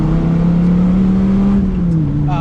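A Dodge Viper's V10 engine drones loudly and steadily close by, its pitch holding level and then easing slightly, with a deep resonant hum.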